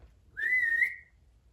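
A single sustained human whistle, one shrill steady note lasting about half a second, close and clear against a quiet background.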